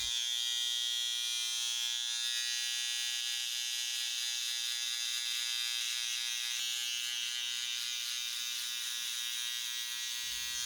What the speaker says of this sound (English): Now we're going to grab our trimmers and start doing the ball line on the other side